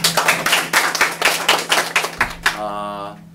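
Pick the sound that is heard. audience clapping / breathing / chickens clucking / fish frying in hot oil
audience clapping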